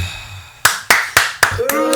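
Hands clapping in a podcast studio, about six sharp claps in a quick irregular run, close and loud, with a brief voice at the end.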